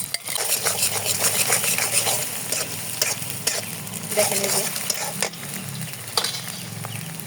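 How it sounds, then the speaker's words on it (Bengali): An egg sizzles in oil in a pan while being stirred, a continuous close frying hiss broken by scraping spatula strokes and light clinks, with a few brief spoken words over it. "এখন ডিমটা দিয়ে এখানে একটু নেড়ে দেবো যাতে একদম ইসে না হয়ে যায় বেশি ভাজা না হয়ে যায়"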